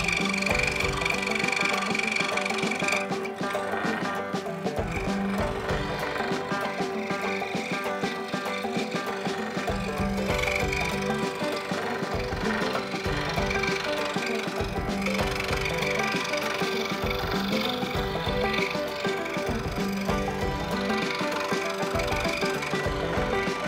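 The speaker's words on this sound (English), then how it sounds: "This is a scroll saw." A scroll saw fitted with a new blade runs steadily, buzzing continuously at close range as it cuts through wood, with a busy mechanical rattle throughout.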